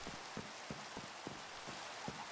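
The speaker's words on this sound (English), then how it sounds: "I slept just before I started recording just so we would not have to deal with the rain, but we're having to deal with it again" Rain falling in Minecraft with the Sky Factory 3 modpack, a soft steady hiss with faint regular patters of drops, quiet and alone.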